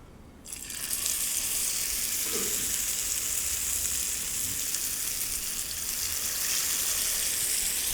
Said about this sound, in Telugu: ఆయిల్ వేడెక్కింది. సో ఇప్పుడు మనం ఫిష్ని షాలో ఫ్రై చేసుకుందాం.